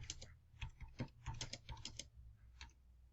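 Quiet typing of notes on a computer keyboard, a short irregular run of light key clicks with brief pauses, close and faint.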